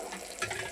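Hot water pours onto fried rice in a pot, a brief soft splashing gush with no voices.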